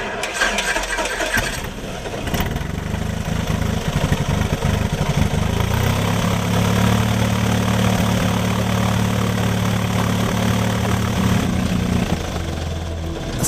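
A small aircraft engine with the cowling off runs loudly and steadily nearby, a throbbing propeller drone that settles into an even pitch after the first seconds.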